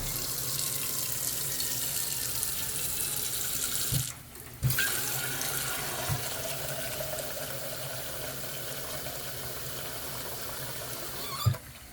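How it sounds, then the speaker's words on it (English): Tap water runs steadily into a pot, a close, continuous splashing rush with a brief break and a few clunks of the pot. "I put some water in it"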